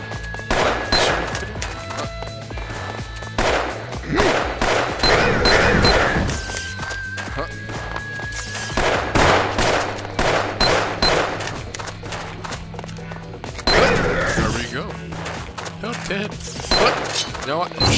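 Gunfire in the online shooter Gunz, dense bursts of shots and impacts crackling through most of the stretch over a constant game soundtrack, with loud clusters recurring every few seconds.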